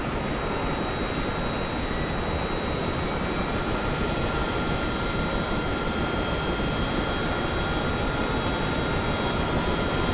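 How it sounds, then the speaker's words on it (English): A jet engine runs up during startup in the DCS World flight simulator, a loud, steady, broadband roar with a faint high whine above it, held without change for about ten seconds. "We start our engine."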